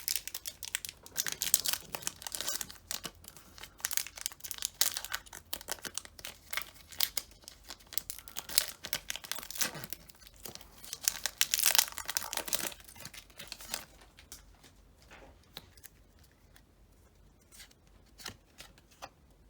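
Foil wrapper of a Pokémon Cosmic Eclipse booster pack crinkling and tearing open up close, in dense bursts of rustling for about fifteen seconds before it fades to quiet handling.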